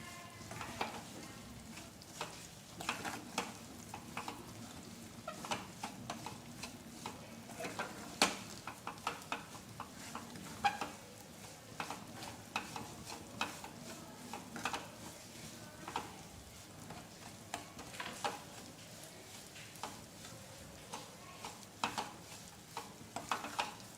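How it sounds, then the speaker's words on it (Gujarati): A spoon scrapes and stirs steadily in a pan while flour roasts with a faint sizzle, close and quiet, with no talking, continuing for a long stretch; flour is being roasted for sukhadi. "હવે બધું જ મિક્સ કરતાં સારી રીતે શેકી લઈશું લોટ સાથે"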